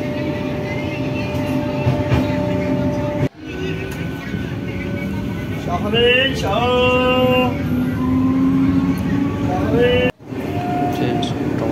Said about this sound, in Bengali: রামতলা প্ল্যাটফর্মে দাঁড়িয়ে আছি ট্রেনের অপেক্ষায়। ট্রেনে উঠে গেছি।